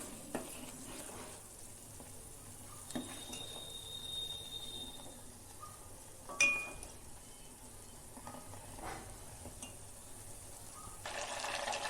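Butter simmering in a pot on a gas stove as it turns into ghee, a faint steady bubbling and sizzle with a few soft clinks, no talk.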